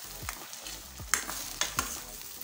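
Vegetable saagu with ground masala and onions gets stirred in a pan, with a few distinct scraping strokes and soft taps over a quiet sizzle; no voices.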